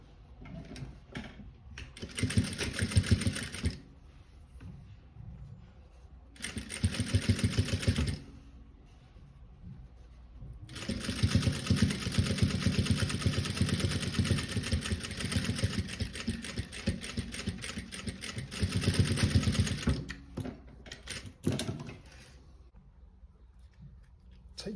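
A sewing machine stitching a fabric stash pouch, running in several bursts of rapid mechanical whirring and clatter, separated by short quiet pauses with faint handling.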